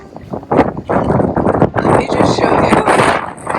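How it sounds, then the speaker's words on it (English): Strong wind gusts through a garage during spray painting, buffeting the microphone in loud, uneven blasts, while someone talks over it. "How crazy is this? So windy."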